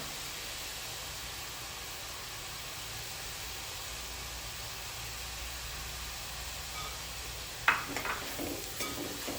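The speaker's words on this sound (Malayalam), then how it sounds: "നമ്മൾ സവാള ഒന്ന് പെട്ടെന്ന് വഴറ്റി കിട്ടാൻ വേണ്ടി നമുക്ക് കുറച്ച് ഉപ്പ് ഇട്ട് കൊടുക്കാം" Onions sautéing with salt in a pan give a soft, steady sizzling hiss, with a brief clatter of stirring near the end.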